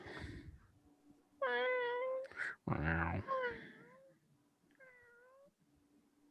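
A hungry cat meows in several drawn-out, rising-and-falling cries, loud and close, with someone speaking briefly in between over a low steady background hum.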